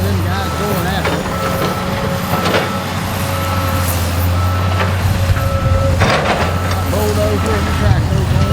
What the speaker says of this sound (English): Bulldozer and the track goes on.